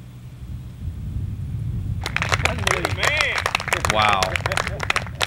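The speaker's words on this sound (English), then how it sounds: "this brought the crowd to its feet" Spectators at a 1998 Hooters Tour golf tournament erupt about two seconds in, with dense clapping and excited cheering and shouting rising over a low background murmur.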